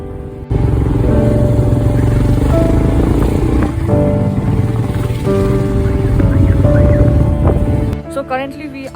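Rented motorcycle ridden on a hill road in Pelling, West Sikkim, its engine droning loud and steady from start to finish before cutting off abruptly near the end, with wind rumble and a voice heard over it.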